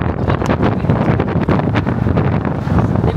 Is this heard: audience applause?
no